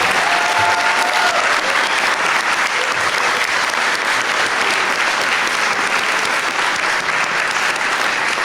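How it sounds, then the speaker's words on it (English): Audience applause at a spelling bee, a loud sustained burst of many hands clapping from a crowded room, dense and even throughout with a faint voice or two buried underneath. "Let's have another round of applause for all these folks up here."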